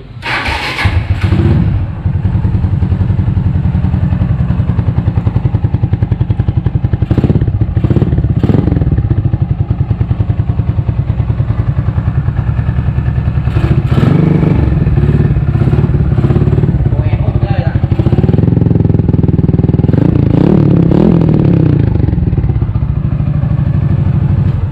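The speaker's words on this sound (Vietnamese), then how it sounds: "giờ test máy cho anh em nghe chơi cái nha" Suzuki motorcycle engine started and revved repeatedly, loud and close, with sharp throttle blips rising over a steady clattering idle for the whole stretch, no talking.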